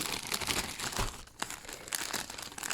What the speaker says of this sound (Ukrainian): відкриваю один пакетик